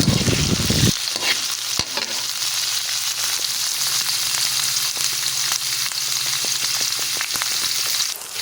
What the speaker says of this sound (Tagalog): Hahaluin natin para hindi gaanong masunog yung sibuyas at bawang.